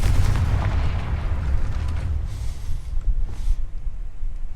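Confringo fire spell blast in the video game Hogwarts Legacy, a loud booming explosion with a rumbling tail that fades over several seconds.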